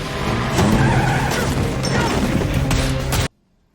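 A truck accelerating in a film scene, with loud tires skidding and squealing over a roaring engine, punctuated by sharp impacts before cutting abruptly to silence.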